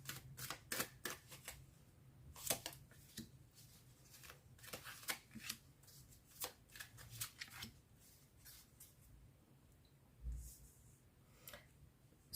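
Tarot cards shuffled by hand for a reading, a close series of sharp irregular riffles and flicks in bursts over a quiet background, with a soft low hum underneath.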